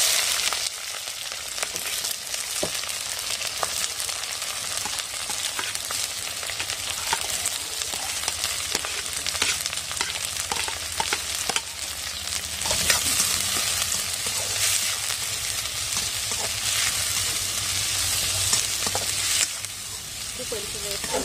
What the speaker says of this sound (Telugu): ఉల్లిపాయలు నేను సన్నగా కట్ చేసుకున్నాను స్లైసెస్ లాగా సో ఉల్లిపాయలు పచ్చిమిరపకాయలు